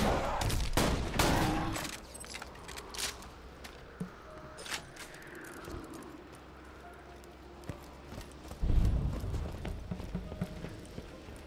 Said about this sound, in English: I'm just fucking taking to hitting these guys in the ass with my shotgun